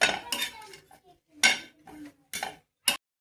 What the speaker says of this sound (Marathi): हे आता खोबरं भाजायला घेतलंय.